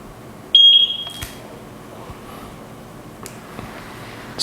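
A single short high-pitched electronic beep from the sync button of a Eufy Floodlight Cam 2 Pro security camera, near and clear against a faint room background, followed by small handling clicks.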